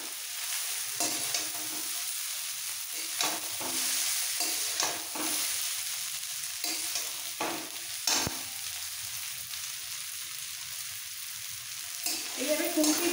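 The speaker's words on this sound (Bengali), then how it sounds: "এবার একসাথে ভেজে নেবো।" Egg chowmein fries in a pan while a spatula lifts and turns it, steady sizzling broken by repeated scraping and stirring strokes, close and moderately loud, without talking.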